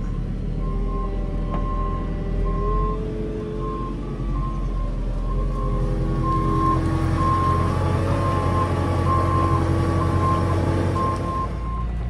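A JCB 538.60 Agrixtra telehandler drives in crab steering, its engine producing a steady, close rumble with a constant low drone and a faint whine holding throughout.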